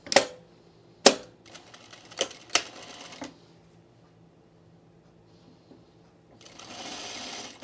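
A sewing machine working on the center back seam of a Reynolds top: sharp clicks and short bursts of stitching early on, a quiet stretch, then a steady run of stitching at the end, close and fairly soft.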